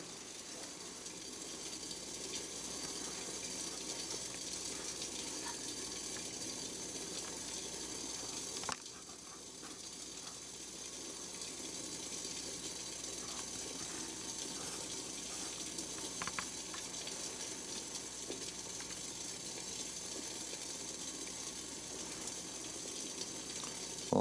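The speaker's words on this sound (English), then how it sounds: "Got good steam coming out, boiling really well." Water at a steady rolling boil in a pot over a homemade alcohol stove during a burn test. A continuous hiss and bubbling rush runs unbroken throughout, with a brief shift partway through and no talking.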